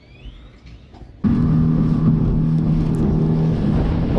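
After a quiet moment, a motorboat engine on Lake Atitlán starts up loudly and keeps droning at a steady, close hum with wind rush.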